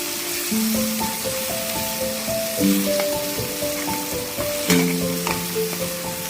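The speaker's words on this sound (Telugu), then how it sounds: "అల్లం కాస్త పచ్చివాసన పోయేంత వరకు వేగనిద్దాం." Turmeric and freshly ground ginger fry in a pan for a dry mutton curry, giving a steady, close sizzle that runs the whole time, with a few brief stirring scrapes and quieter tonal background sounds.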